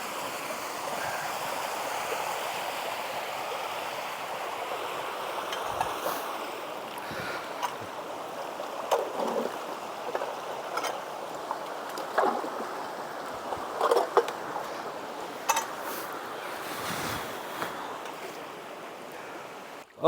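Small waterway feeding rice paddies, water running with a soft steady trickle and gurgle, faint and continuous, with occasional brief splashes and knocks.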